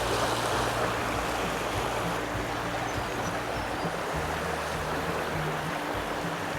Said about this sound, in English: There's a current breaking water in front of me